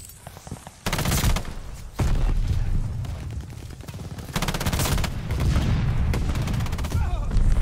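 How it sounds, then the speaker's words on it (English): Sustained bursts of automatic assault-rifle fire in the Warzone shooter game, rapid rattling shots rolling almost continuously after a brief pause, loud and close with booming impacts mixed in. "The assault rifle feels good, even with this build."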